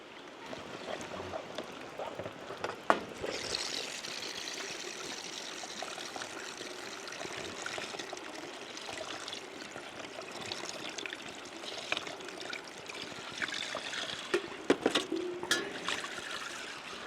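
Water runs and splashes steadily for the whole stretch, poured for rinsing outdoors in the Ouachita Mountains, a continuous trickle with a few louder sloshes and clatters near the start and end.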